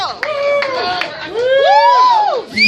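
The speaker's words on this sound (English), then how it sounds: "Everybody give a big round of applause for Mr. Michael Crane." Comedy show audience at a bar cheering and whooping loudly, a dense crowd roar with shouted voices rising and falling throughout.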